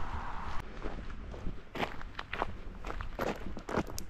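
Footsteps walking along a road, a steady close rhythm of shoe scuffs and crunches at moderate loudness, with no talk over them.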